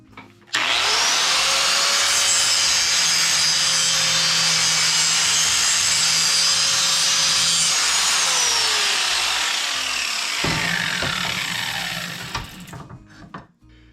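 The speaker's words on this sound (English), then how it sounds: "I'm just going to round the ends just to make them look pretty." An angle grinder rounds the ends of steel flat bar braces for a shopmade fuel dolly handle, a loud steady abrasive whine for about seven seconds before winding down, with a few light clunks at the end.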